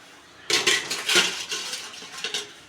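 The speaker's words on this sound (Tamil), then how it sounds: "இப்போ இதில் தேங்காயை கொட்டி" Grated coconut tipped into a chayote stir-fry, heard as a burst of metal spoon scraping and clinking against the pan, several quick knocks and rattles up close with no voices.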